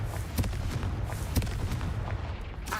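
Fire spell blasts from Hogwarts Legacy burst out as a few sharp booming cracks, the loudest near the start and middle, over a steady low rumble of game noise with no talking.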